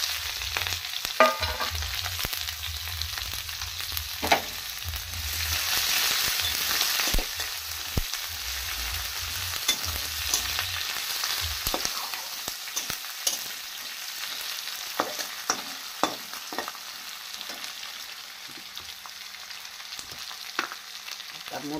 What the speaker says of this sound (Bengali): তার মধ্যে দিয়ে দেবো অল্প একটু লবণ, যাতে পেঁয়াজটা জলদি ভাজা হয়ে যায়।